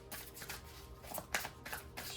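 Riffle shuffles of a slippery tarot card deck give quiet repeated bursts of flicking and snapping cards, heard close up with no talk.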